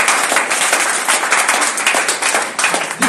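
A church congregation at a Sunday service applauds with loud, dense, sustained clapping throughout, close and full, with no voices standing out.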